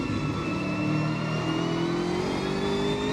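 Racing car engines in Automobilista 2 at the Nurburgring, including a BMW M6 GT3 alongside, a loud sustained mid-pitched engine drone whose tone slowly climbs under acceleration, with no pauses.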